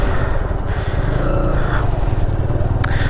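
A Kawasaki Z125 Pro motorcycle ridden at night gives off a close, loud, steady engine drone with a rapid low pulsing throb.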